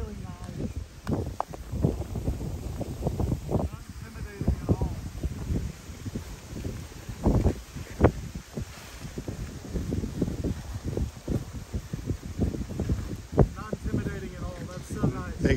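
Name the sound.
high wind blowing while kiting a paraglider wing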